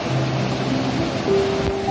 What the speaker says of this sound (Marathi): हा ब्रिज, ब्रिज खालून हे वाहतं पाणी.